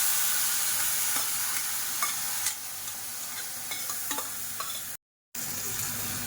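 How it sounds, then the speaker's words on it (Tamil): Beetroot and moong dal kootu is stirred in a hot pan, a continuous close sizzle broken by scraping spoon strokes, with a brief cut to silence near the end. "இப்போ நல்லா கலந்து விட்டுறலாம்"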